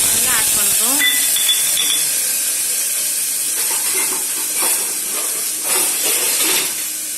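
Steady sizzling of tomatoes frying in oil with occasional clinks of a utensil stirring the pan; no voices, close and continuous.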